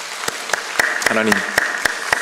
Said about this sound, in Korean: 우리 영광의 박수 한번 올려드릴까요?